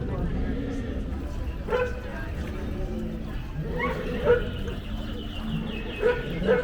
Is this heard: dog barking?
yes